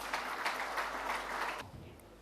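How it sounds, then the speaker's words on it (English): Audience at a corporate event claps for executives called to the dais, a dense patter of applause that stops abruptly partway through, followed by low room noise. "Please welcome them with a big round of applause."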